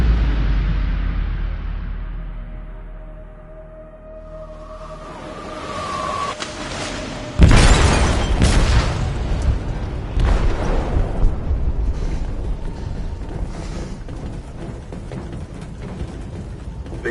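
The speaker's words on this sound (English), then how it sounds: "They detonated an explosive in the hold. The ship is sinking, sir." An explosive detonates in a ship's hold in a video game: a low rumbling swell builds, then a loud sudden boom erupts and decays into sustained roaring, crackling debris and fire noise.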